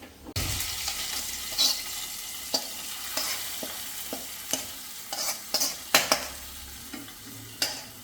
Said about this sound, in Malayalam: ഇനി ഇത് കറിയിലേക്ക് ഒഴിച്ചു കൊടുക്കാം